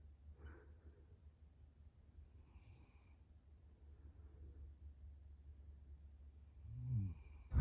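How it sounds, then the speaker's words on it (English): A relaxed pet snores softly at close range, with faint snorting breaths repeating at intervals and a louder snort near the end. "He's so relaxed, he's snoring."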